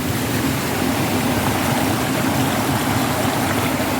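Strong stream water rushing loudly and continuously close by, a dense unbroken roar with no talking over it.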